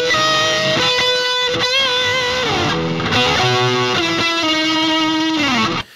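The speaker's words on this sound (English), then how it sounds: "So it's just a lead guitar right here" A solo electric lead guitar plays a bright, sustained melodic line with bends and slides, dry and upfront, ending abruptly.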